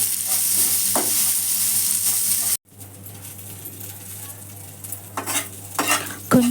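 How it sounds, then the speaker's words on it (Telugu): Garlic, cumin and curry leaves fry in a pan with a bright, continuous sizzle that cuts off abruptly, followed by quieter clinks and scrapes of a spoon against the pan. "వేగిన కళ్యామాకుల్లో గుప్పెడు వెల్లుల్లి, కొంచెం జీలకర్ర అందులో ఫ్రై చేయాలి"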